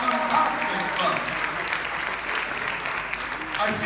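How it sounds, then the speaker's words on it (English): Audience applause at a JCI morning show event in Goa, a dense, sustained clapping from a sizeable crowd throughout, with a voice speaking over it. "Let's give a big round of applause for Stefan."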